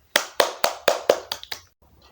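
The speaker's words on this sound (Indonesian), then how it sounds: "Berikan tepuk tangan untuk kelompok 3." A classroom group claps in quick unison during a microteaching lesson: about six sharp, evenly spaced claps, then the clapping stops.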